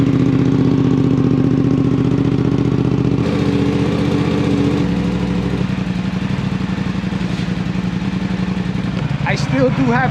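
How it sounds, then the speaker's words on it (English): Suzuki GSX-8S motorcycle engine and exhaust idling with a deep, low tone, a steady throbbing rumble up close that shifts pitch a couple of times and blips near the end, with talk over it. "I like this deeper tone exhaust sound"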